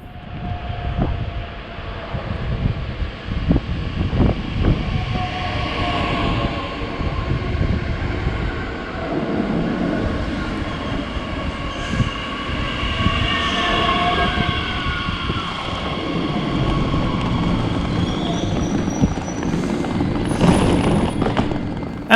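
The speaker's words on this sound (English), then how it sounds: "here we can also see our train arriving at Halle." Deutsche Bahn Talent 2 S-Bahn electric train pulling into Halle station, a rising electric whine and rumbling wheels under station ambience, steady and moderately loud, with no talk.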